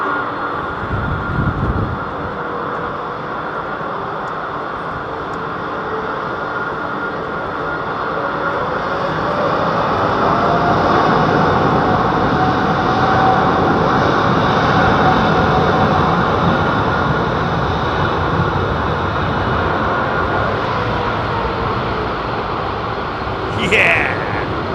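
A jet taking off at London Heathrow Airport, a loud broadband roar that swells and holds steady for many seconds, heard alongside intermittent talk.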